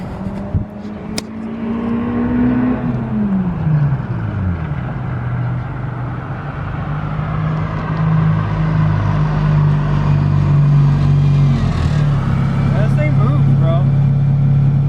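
Honda Civic EP3 driving off, its loud engine droning steadily while the pitch dips and rises through gear changes over about fifteen seconds, with people talking over it.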